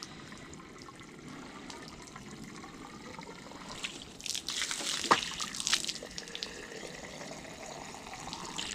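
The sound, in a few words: water splurting out while filling an RV water tank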